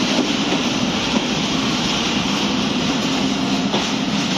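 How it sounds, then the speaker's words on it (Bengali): A long passenger train bound for Rajshahi rolls through a station without stopping, giving a steady, loud rumble with faint clickety-clack of the wagons, continuous for the whole stretch with no talk. "মোটামুটি অনেক মোটামুটি একটা লম্বা ট্রেন"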